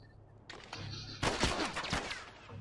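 Bursts of gunfire in The Last of Us video game, a rapid cluster of loud, sharp shots with echoing tails after a quieter ambient lead-in, with no talking over it.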